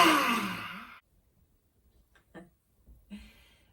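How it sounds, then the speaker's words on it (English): Deep cleansing breath exhaled during a yoga session: one long, breathy sigh-like exhale, close and clear, fading after about a second, followed by quiet faint breaths. "that's a really good cleansing breath"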